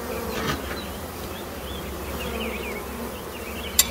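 Honey bees buzz steadily in an open hive frame full of bees and new wax during a beekeeping demonstration, a dense continuous drone with scattered individual passes and a sharp brief click near the end.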